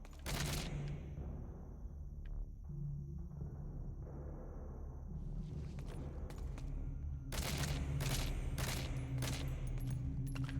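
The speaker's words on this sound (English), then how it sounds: "Why did you shoot that guy so many times?" Gunfire in Metal Gear Solid V: The Phantom Pain comes in clusters of sharp cracks, a few shots early and then a rapid burst of repeated shots near the end, over a low droning background.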